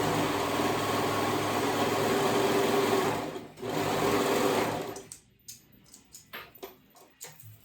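A sewing machine stitches the sides of a ruffled skirt, running in a loud continuous whir for about five seconds, then slowing into short stop-start bursts of stitching.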